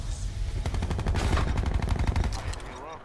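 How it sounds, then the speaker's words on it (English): Rapid bursts of gunfire from an enemy player in a shooter game, crackling in quick repeated shots, moderately loud, mixed with background game sound and some voice chatter. "Ah, he's shooting me."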